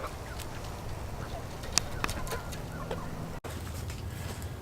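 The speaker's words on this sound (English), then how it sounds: "there's the chickens all happily eating their breakfast." Chickens clucking softly as they eat their breakfast feed in a market garden, steady low murmuring with a few brief sharper calls, continuous background flock sound.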